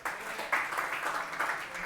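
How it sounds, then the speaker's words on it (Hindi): Students in a classroom clap together in a brief, steady burst of applause, fairly close and filling the whole short moment with dense, even hand claps. "बजा तालियां, बराबर है."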